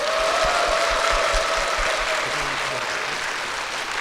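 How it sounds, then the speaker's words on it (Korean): A church congregation claps steadily to welcome a guest to the stage, a continuous wash of applause filling the hall from start to finish. "박수로 모시겠습니다."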